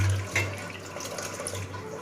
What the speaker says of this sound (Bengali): এখন আরেকবারও আমি ধুয়ে নিচ্ছি।